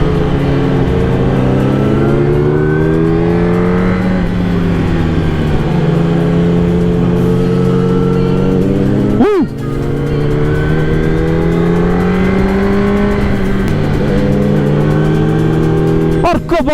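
Porsche sports cars on a Dolomites mountain road, engines revving and rising and falling in pitch as they accelerate past at close range, loud and continuous with harmonic engine tones and brief sharp dips between passes.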